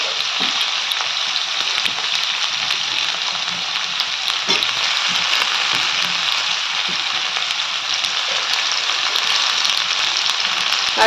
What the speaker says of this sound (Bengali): আলুগুলো দিয়ে আলুগুলো একটু ভেজে নেব আর এর মধ্যে দিয়ে দেবো পেঁয়াজ